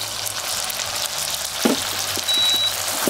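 Gnocchi sizzle and fry in a hot pan as pasta water is poured in, a steady close crackle with a brief louder splash partway through and no voices.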